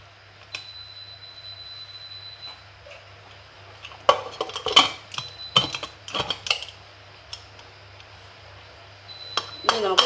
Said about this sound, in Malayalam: എന്നിട്ട് നമുക്കിത് കുക്കർ അടച്ച് ഗ്യാസിലോട്ട് വെക്കാം.